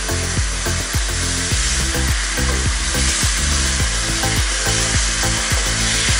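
Spices fry in a hot pan for a pheasant saag aloo as water is added, giving a dense, loud hiss and crackle with repeated sharp pops and spits.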